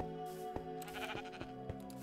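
Minecraft sheep bleating in a couple of short wavering calls over steady game background tones, fairly close and clear, with no talking.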